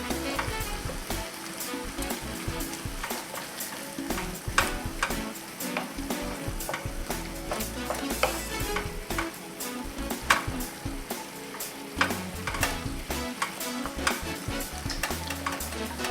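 Diced tomato goes into a sizzling pan of bolognese sauce made as dog food, a steady frying hiss broken by frequent sharp clicks of a utensil stirring and tapping against the pan, with no voices.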